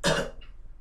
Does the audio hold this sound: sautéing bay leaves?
no